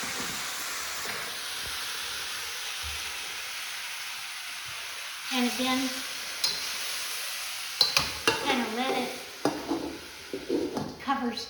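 A vegetable medley sizzles and hisses in a hot pan while being stir-fried, with repeated sharp scrapes and clatters of the utensil against the pan and a voice speaking briefly.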